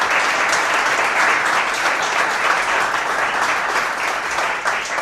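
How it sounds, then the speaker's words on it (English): An audience at a Laravel developer meetup in Greece applauds, a dense, loud, sustained clapping that runs for several seconds with no speech. "Thank you so much for that applause."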